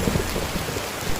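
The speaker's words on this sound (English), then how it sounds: "big drop of rain began to fall" Steady rain falls as a dense, even hiss with soft low patter. It is loud and continuous throughout, with no voices.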